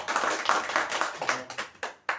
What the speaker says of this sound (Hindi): आप सभी लोग के लिए प्लीज एक जोरदार ताली हो